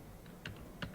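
A few quiet keystrokes on a computer keyboard while entering a web address, two distinct soft clicks about a third of a second apart over faint room hum.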